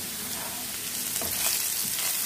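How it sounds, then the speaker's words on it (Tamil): Elephant foot yam pieces fry in oil in a pan, giving a steady, loud, close sizzle with no talk. "நல்லா ஃப்ரை பண்ணிக்கலாம்."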